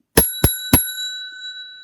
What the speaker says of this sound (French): quand la cloche sonne